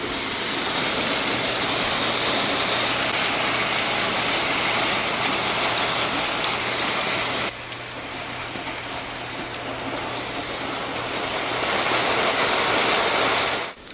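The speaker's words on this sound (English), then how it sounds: "I love the sound of rain." Steady heavy rain pouring down, a dense loud hiss of drops with a faint low hum beneath, easing briefly midway then swelling again before cutting off.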